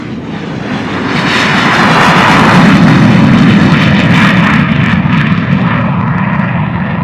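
An L-29 jet drones with a steady, loud engine roar as it climbs away on a missed approach, broadband rumble and whine holding constant throughout.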